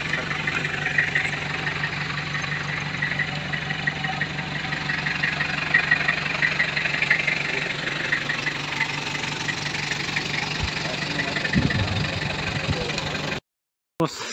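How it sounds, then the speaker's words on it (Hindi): A boat engine drones steadily at a dam, with a faint buzz of bees in the air. Voices talk intermittently over the continuous engine noise, which holds fairly even before a sudden short dropout near the end. "इसका इंजन आ रहा है।"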